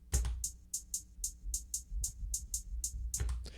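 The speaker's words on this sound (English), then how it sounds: "drill, the main thing that you have to worry about is the hi-hat pattern" Fast, evenly spaced electronic drill hi-hat ticks with a rolling rhythm over a low rumbling bass, quiet and mechanical, no voices.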